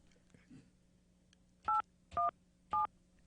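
Three dual-tone keypad beeps from a telephone as a number is dialed, evenly spaced about half a second apart, clear and close over a quiet room with faint background noise.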